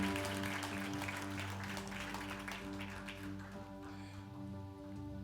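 Church congregation applauding during a worship service, a steady wash of clapping over sustained music tones with held chords underneath, moderately loud and continuous throughout.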